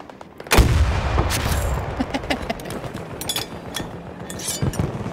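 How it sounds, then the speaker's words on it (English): A rocket launches with a sudden loud blast in a tank-battle video game, followed by a rumbling low roar and scattered crackling impacts and distant pops that fade over several seconds. "All right, they're gonna get a rocket."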